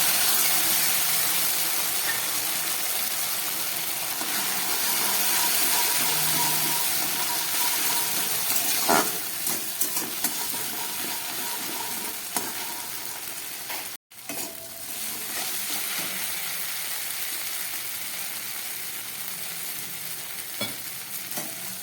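Ground cashew, poppy seed, mustard and chili paste fries in a pan with dried chili and bay leaves, a soft continuous sizzle with occasional stirring scrapes and small pops, no voices.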